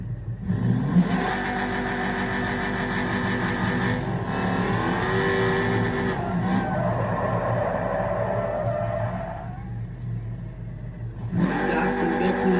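A car engine in the driving game BeamNG revs hard and holds high, with the pitch shifting through gear changes, dropping away briefly and then surging back, loud and continuous with no talk.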